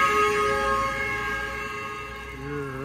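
A heavily loaded truck sounds a long, loud, steady horn blast while trying to overtake on a road, its held tone wavering near the end over passing-traffic noise.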